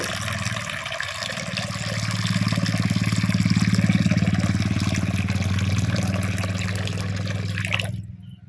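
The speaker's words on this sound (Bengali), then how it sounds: "কড়ার মধ্যে পরিমাণ মতন জল দিয়ে দেব" Water is poured into a hot wok on a clay stove, a steady rushing pour and hiss that swells and then stops abruptly near the end, close and loud with no talking.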